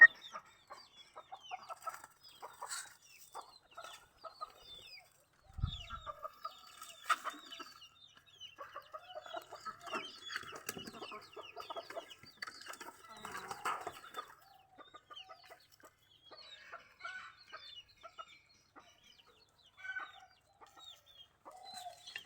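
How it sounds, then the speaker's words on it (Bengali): Chickens clucking softly in short, scattered bursts, with a red rooster's calls mixed in and a brief low thump partway through; fairly quiet and close. "এই যে আমাদের মোরগ, লাল টকটকা"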